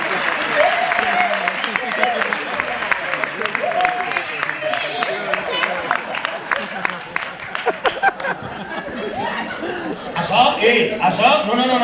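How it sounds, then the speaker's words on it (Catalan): Theatre audience clapping steadily through a comedy show, mixed with chuckles and laughter while a performer talks over it. "Un aplaudiment, home!"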